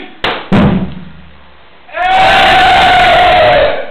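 A crowd cheers together in a school play about Bang Rachan: two sharp knocks or thuds come first, then a loud, sustained roar of many voices that swells and holds to the end.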